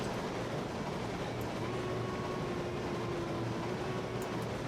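A huge freight train rolls along in Railroads Online, a steady rumbling drone with a faint whine rising over it throughout, with no talk.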